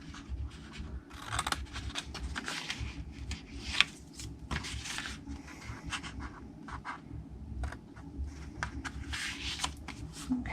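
Scissors snipping through Stampin' Up cardstock up to score lines while making a slender tulip nail file gift box, heard as close, irregular crisp cuts and paper rustling throughout.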